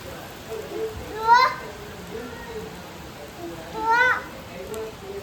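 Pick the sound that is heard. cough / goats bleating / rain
rain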